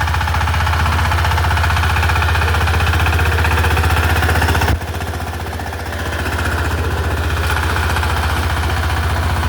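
A mini power tiller with a 48-blade rotavator runs in third gear, its weak, oil-burning engine throbbing loud and close with a rapid knocking beat. The engine drops briefly midway, then settles back to a steady drone.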